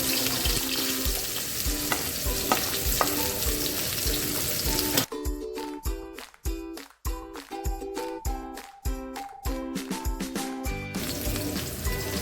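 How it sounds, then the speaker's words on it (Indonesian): Garlic and shallots sizzle steadily as they sauté in a pan, with a dense frying hiss throughout and a run of sharp, rhythmic stirring scrapes and knocks in the latter half. "kita mulai dengan menumis terlebih dahulu bawang putih serta bawang merahnya"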